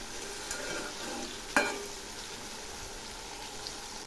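Potato pieces frying with tomatoes and turmeric in a pan, a steady soft sizzle under stirring, with one sharp clink of a utensil against the pan midway.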